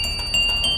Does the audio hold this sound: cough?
no